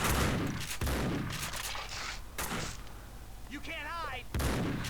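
Gunfire in the Max Payne 2 video game, several sharp bursts and booming shots spaced across a few seconds at moderate volume, with a voice speaking briefly between them.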